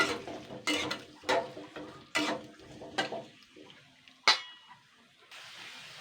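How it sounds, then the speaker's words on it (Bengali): Sliced potatoes stirred in a pan while frying, a series of near scraping and clattering strokes of a utensil against the pan, separated by quiet gaps, with a faint sizzle under them. "স্লাইস করে রেখেছিলাম যে আলুটা সবার প্রথমে হালকা আমি 2 মিনিট মতন নাড়াচাড়া করে নেবো"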